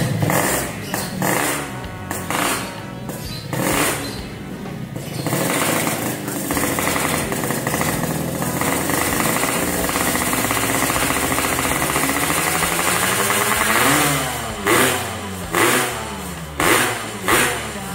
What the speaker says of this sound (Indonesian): ini dengerin suara knalpot dari A25 ya